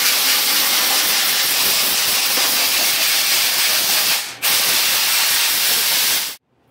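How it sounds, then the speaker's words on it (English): Compressed shop air hisses out steadily while blowing dust and grime from a Hobart plasma cutter, a loud continuous blast that briefly dips around the fourth second, resumes, then cuts off sharply near the end. "just got the shop air hooked up here. And like I said, just blowing this thing out."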